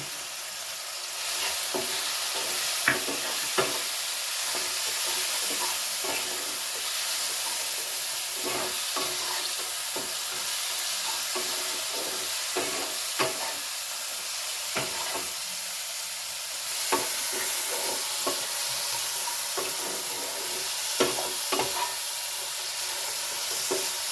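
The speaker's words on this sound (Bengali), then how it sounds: "ভালো করে কষিয়ে নিচ্ছি" Cumin powder and chilli powder are stirred and sautéed in a hot pan for a rajma curry, a continuous close sizzle broken by repeated scraping strokes of the spoon, with no talking.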